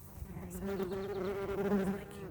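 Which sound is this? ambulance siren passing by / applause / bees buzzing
bees buzzing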